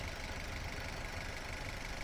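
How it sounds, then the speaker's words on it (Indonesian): A 2008 Toyota Avanza G with manual transmission idles with an even, steady engine hum and no audible faults, close up and continuous for the whole stretch, with no talking. "Mesinnya suara iramanya standar,"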